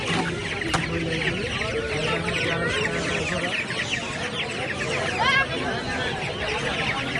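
Chickens cluck and squawk nearby amid the babble of a crowded pigeon and poultry market in Fatullah, Bangladesh, with people talking throughout and a brief louder cackle.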